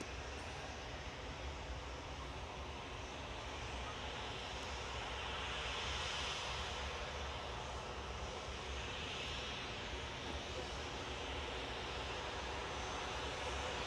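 An airplane departs Manchester Airport, its engines producing a loud, continuous broadband roar that swells slightly midway and holds steady throughout.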